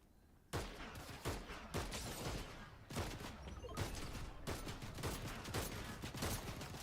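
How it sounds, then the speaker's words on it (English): Rapid bursts of video game gunfire crackle at close range, with sharp repeated shots starting after a short quiet opening and continuing in dense volleys throughout. "Who's shooting at me?"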